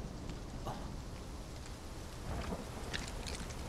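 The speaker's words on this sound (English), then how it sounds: "Is it rain rain or acid rain?" Rain falls in the Final Fantasy VII Rebirth video game, a faint, steady hiss with a few soft spatters and no talking.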